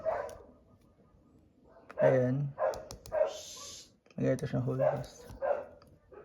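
A house dog barks loudly and repeatedly nearby in two short bursts, while someone talks over and between the barks.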